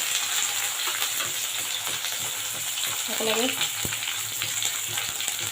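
Onion, dried chili and bay leaf fry together in hot oil, giving a dense, steady sizzle with soft stirring scrapes and a brief spoken word partway through.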